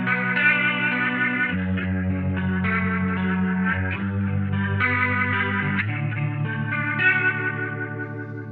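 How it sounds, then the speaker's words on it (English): Guitar chords through the Line 6 HX Effects rotary speaker cab 145, a subtler swirl with gentle warble and little grit, played loud and close as several sustained chords change over. "this is what the 145 sounds like"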